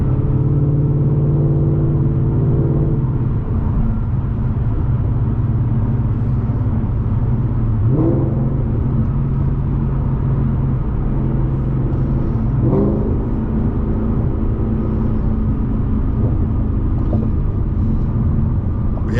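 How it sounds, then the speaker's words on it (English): A 2025 Ford Mustang GT tuned to 800 horsepower cruises at night on the way to a gas station, its engine a steady low rumble with tonal whine and two brief shifts in pitch, loud and continuous throughout. "just gonna go enjoy the car a little bit and take a 30-minute drive to and from a gas station"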